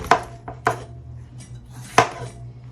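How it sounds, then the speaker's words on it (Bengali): A knife slices through a fresh cucumber with its peel still on. Three sharp, close chops land with pauses between them over a steady low hum. "এখানে শশা কাটতেছি"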